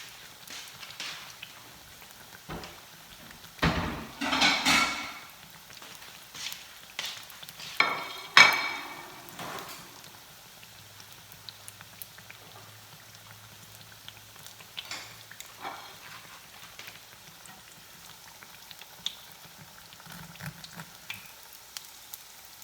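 Cassava fritters filled with crab and shrimp cooking in very hot oil, a soft crackling sizzle that swells into louder bursts early on, then settles to a quieter, steady fry with scattered pops.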